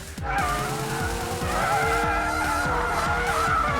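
A McLaren 720S drifts with a sustained, loud tire squeal wailing over a revving engine note that rises and falls rhythmically, close and continuous.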